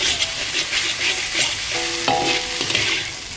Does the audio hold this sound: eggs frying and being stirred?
yes